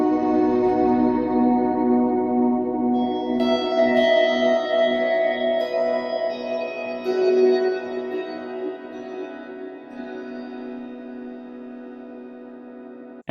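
A synth played through a reverb pushed to its infinite maximum makes a dense, sustained wash of layered tones. It holds steady, slowly thins out, then cuts off abruptly.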